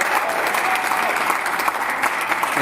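Dense, steady clapping fills the Ontario legislature chamber, many members applauding at once, loud and close with no break.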